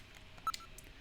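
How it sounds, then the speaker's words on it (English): A video phone in the game Snatcher dials out in a short run of quick touch-tone beeps, one note standing out louder, all heard alone against a faint hiss. "let's use the video phone and try calling maybe Jamie"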